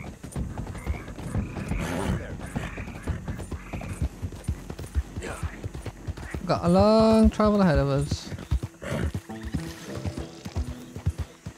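Horse hooves clip-clop steadily in Red Dead Redemption 2, joined by a loud, drawn-out whinny midway, with a person talking over much of it.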